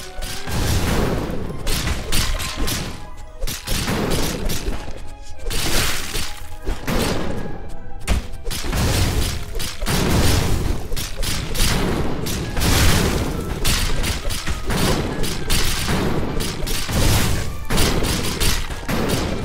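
Rapid gunfire in Cat Quest II, repeated booming shots and crashes in dense bursts throughout, loud and close with no talk.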